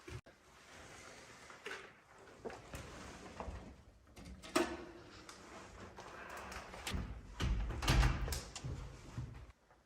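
A barricaded door in a building explored without permission is pushed and forced shut, giving scattered knocks and rustles with two louder scraping thuds around the middle and near the end. No one speaks.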